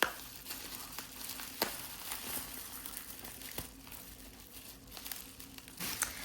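Plastic wrap crinkling and rustling close up as it is pulled apart, soft irregular crackles with a few sharper snaps, no talking.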